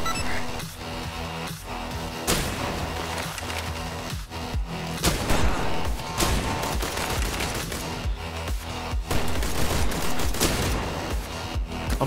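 Assault rifle fire in the video game I Am Your Beast sounds as rapid, loud, repeated bursts over continuous game music and effects, with a few heavier booms between volleys.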